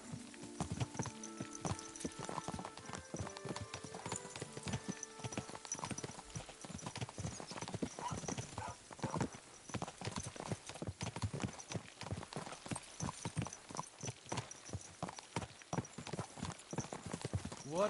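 Horse hooves clip-clopping in the video game Kingdom Come: Deliverance 2, a quick, even, close rhythm of sharp hoof strikes running steadily throughout with no talk.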